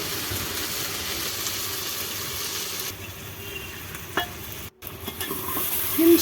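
Meat and potatoes fry lightly in a pan on a mud stove, giving a continuous hissing sizzle with a few stirring scrapes and a short break partway through.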